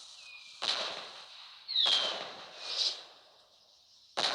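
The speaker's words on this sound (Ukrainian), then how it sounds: "Ну і така ось штука є салютики" Fireworks go off in a video game, a string of crackling bursts with whistling sparkle, several separate pops spaced about a second apart, fairly close and with no talk over them.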